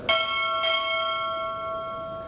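Two strikes of a ship's bell at a U.S. Navy Chief Petty Officer pinning ceremony, two clear metallic rings about half a second apart, the second ringing on and slowly fading.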